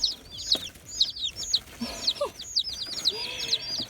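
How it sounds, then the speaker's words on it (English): Orpington chicks peep and cheep steadily over four seconds in quick, high, overlapping calls with a few lower clucks mixed in, close by and fairly loud, with no talking. "I got 17 chicks. My Orpingtons."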